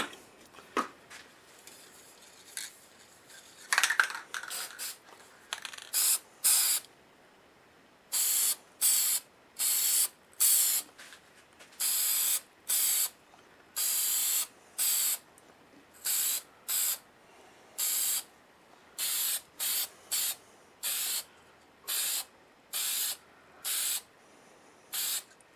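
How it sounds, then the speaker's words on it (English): Short repeated bursts of aerosol lacquer spraying onto a turned natural-edge black locust wooden bowl, steady hissing pulses in a regular rhythm, close and clear with quiet gaps between. "I'm going to spray lacquer on it."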